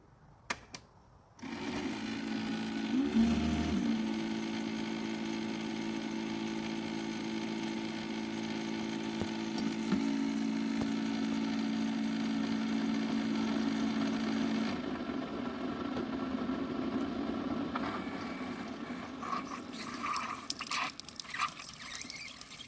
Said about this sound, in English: Warming the milk, I'm gonna make the perfect cup